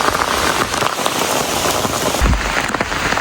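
Heavy rain pours down steadily near a waterfall on a hiking trail, a dense continuous hiss of drops striking surfaces, loud and close, with a brief low thump partway through and no voices.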